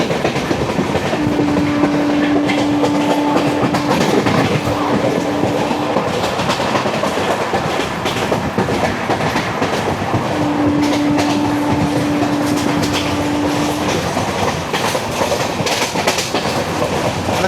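Loud, close 12978 Marusagar Express rumbling through Nivasar station, a steady roar of wheels and clattering rail joints that lasts the whole time, with two long sustained horn-like tones partway through.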